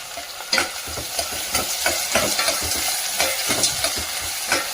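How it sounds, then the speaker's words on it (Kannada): Onion frying and sizzling in a pan while making uppittu with dill leaves, a loud close crackling hiss broken by regular spatula stirring scrapes, with no talking. "ಒಂದು ಈರುಳ್ಳಿನ ಹಾಕೋಣ"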